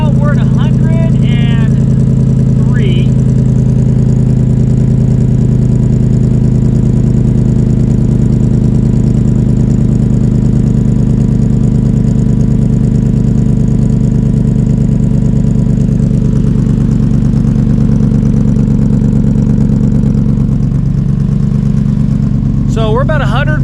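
A Cobra Daytona's engine runs steadily as it warms up, a loud, constant low rumble close by with a brief voice at the start and another near the end.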